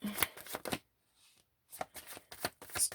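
A tarot card slid back into the deck with close, soft shuffling and card-handling rustles in short bursts around a brief pause.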